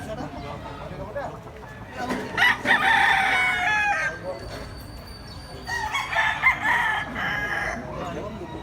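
A large rooster crows twice, loud and close, with a gap between calls, over a background of low voices and ambient noise.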